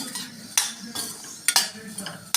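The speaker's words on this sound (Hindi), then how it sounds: "ये जो बेसन तैयार करती हूँ मैं इस तरह से इसको भूंज दे रही।" A metal spoon scrapes and clinks against a pan while gram flour is stirred and roasted, with sharp knocks at irregular intervals over a low background hum.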